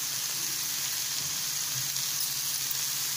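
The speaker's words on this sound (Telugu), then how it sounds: "దీన్ని మనం 2 మినిట్స్ ఫ్రై చేసుకుందాం" Shredded cabbage fries in a pan, giving a continuous bright, hissing sizzle that stays even and close throughout with only faint stirring underneath and no voices.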